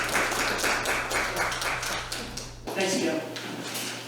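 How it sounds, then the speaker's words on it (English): Warm audience applause for a speaker walking up at a conference talk, steady scattered clapping for a few seconds, then a voice begins talking as the clapping thins. "I just had to walk across here and got applause."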